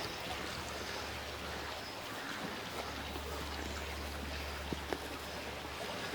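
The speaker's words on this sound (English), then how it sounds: "The brook's full, obviously." A full brook runs on a countryside walk in spring, a steady gentle rush of flowing water at moderate distance, with a low hum underneath and a couple of faint knocks.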